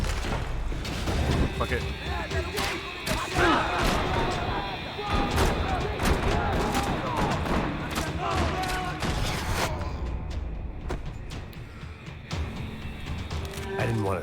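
Rapid bursts of gunfire and heavy booms in the Max Payne 3 video game, dense and continuous with thuds and mechanical clatter, easing near the end, with voices talking and swearing over it.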